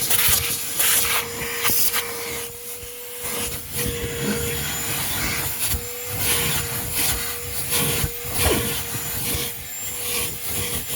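A Ridgid dual 18-volt cordless vacuum, model HD0918, runs on carpet with a steady motor hum and a constant whine, broken by rough rubbing and scraping bursts as it is pushed along. No voices.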